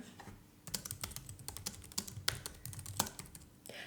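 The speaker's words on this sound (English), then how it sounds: "Let me type this for you." Typing on a computer keyboard, bursts of crisp close keystrokes in uneven clusters with short pauses and a few louder taps, nobody speaking.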